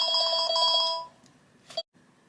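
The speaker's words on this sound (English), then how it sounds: "The phone was so loud as well." A loud electronic telephone ringtone trills in a rapid repeating pattern for about a second, then cuts off, followed by a brief muffled knock or click in a quiet room.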